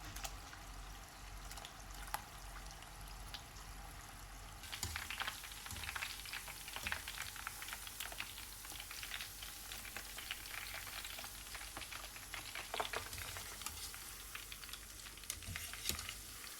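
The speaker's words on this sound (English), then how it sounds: "Frying in 3 batches, the chicken attains a golden hue within minutes." Marinated Chicken 65 pieces deep frying in a pot of hot oil for samosas, a steady close sizzle and crackle with scattered sharper pops throughout, no voices.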